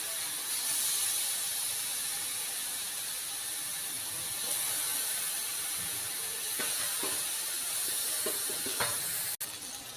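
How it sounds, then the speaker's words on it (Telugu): Eggplant pieces frying in oil on low heat, a steady bright hiss throughout with a few soft crackles and pops toward the end, close and continuous with no talking. "సిమ్లో పెట్టి వేయించుకోవాలి"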